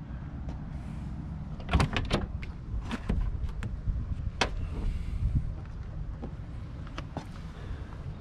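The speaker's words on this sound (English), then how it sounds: "All the windows work here on this one as well. Windows roll up and down." Electric power windows of a 1963.5 Ford Galaxie 500 R-Code 427 convertible whir up and down several times, with clunks and short mechanical bursts in a quiet interior; no talking.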